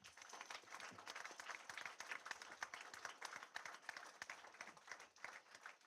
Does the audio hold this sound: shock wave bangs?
no